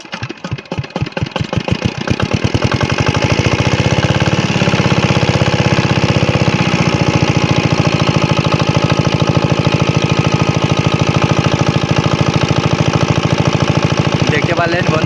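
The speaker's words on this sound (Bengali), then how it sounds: "দেখতে পারলেন বন্ধুরা স্টার্ট হয়ে গেল মেশিনটা।" A shallow pump engine being started beside a river to irrigate a potato field, chugging irregularly at first then settling into a loud, steady, close thumping run.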